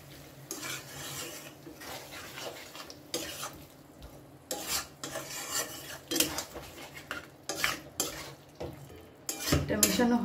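Jackfruit curry stirred together with cashew and poppy seed paste in a pan, quiet sizzling under irregular scrapes and clinks of a spoon against metal, with no voices.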